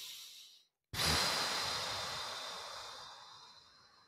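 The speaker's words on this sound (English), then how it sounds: "Take a deep breath in and out." Slow, deep breath drawn in and released during a calm guided relaxation, a brief silent pause followed by a long, steady airy exhale that fades gradually, close and soft.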